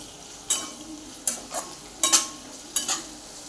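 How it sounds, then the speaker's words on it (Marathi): Crushed ginger-garlic paste sautéing in a pan for pulao: a low continuous sizzle broken by four distinct bursts of spatula stirring and scraping at a steady, unhurried pace. "आलं लसूण पण चांगलं परतले"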